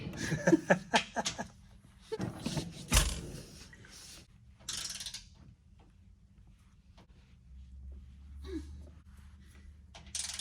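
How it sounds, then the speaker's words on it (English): A wrench tightens the bolts on White Knuckle Offroad rock sliders to 80 foot-pounds, making ratcheting clicks and metallic clanks that cluster early and then grow sparse. A faint vocal sound also occurs. "tighten all of the bolts to 80 foot-pounds"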